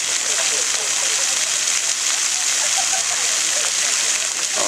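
Water from a night-time city fountain show sprays and splashes steadily in a continuous loud outdoor wash, heard from nearby in an open square with faint crowd sound beneath.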